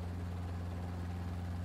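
Helicopter rotor and engine drone steady and close throughout a tour flight over Busan, South Korea, a continuous low thrumming hum filling the cabin with no talk.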